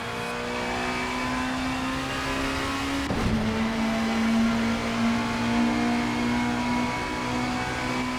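An Audi A4 Quattro BTCC race car drones loudly at high revs in a racing video game. A brief gear change dips the tone partway through, then the engine pulls on steadily with no voices.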